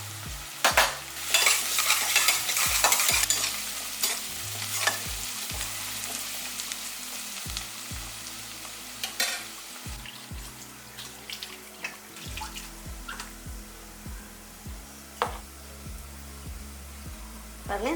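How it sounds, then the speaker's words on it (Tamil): Onions frying brown in a pan for a banana flower biryani, with frequent scraping and clattering stirs breaking over a quieter sizzle, close and uneven in rhythm. "வெங்காயம் இந்த அளவுக்கு நல்லா ஒரு ப்ரௌன் கலரில் நல்லா பொரிஞ்சிருச்சு பார்த்தீங்களா"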